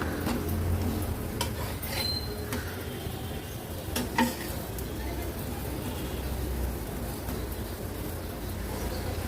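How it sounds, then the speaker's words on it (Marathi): Spinach paratha fries and is pressed down on a hot pan, a steady low sizzle with occasional light utensil taps while someone speaks over it. "असे ना दाबून दाबून ह्यांना व्यवस्थित आपल्याला भाजून घ्यायचे आहेत"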